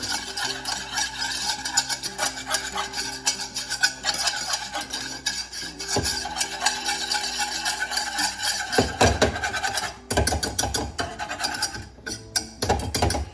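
Flour is stirred into melted butter for a roux, a spoon scraping and rasping around the pan in quick repeated strokes, close and fairly loud, with a steady background hum.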